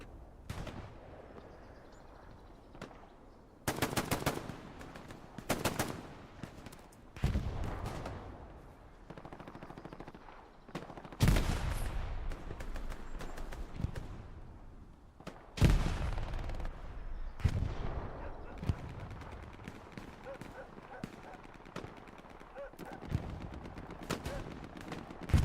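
Repeated gunfire during a multiplayer war video game match: dense rifle and machine-gun bursts, some near and loud, others distant, continuing throughout with brief lulls and faint talk now and then.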